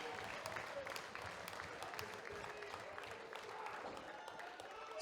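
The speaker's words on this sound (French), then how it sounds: "on entend la foule commencer à applaudir" A crowd applauding steadily at a fight, a dense wash of clapping with faint voices and murmuring beneath, fairly distant.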